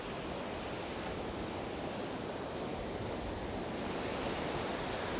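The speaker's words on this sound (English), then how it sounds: "Tide's coming up." Ocean waves washing in at a beach by a fishing pier, a continuous loud broadband roar of surf with no distinct breaks, steady throughout.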